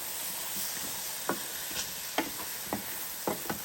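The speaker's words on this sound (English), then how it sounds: "Stir these eggs up." Eggs and zucchini stirred in a frying pan, a steady background sizzle broken by several sharp scraping clicks of a utensil against the pan, close and clear.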